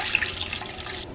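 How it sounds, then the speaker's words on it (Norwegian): Water pours steadily into a mixing bowl holding yeast, a continuous close splashing stream that eases off toward the end. "Vi tar gjær og vann oppi bollen vår."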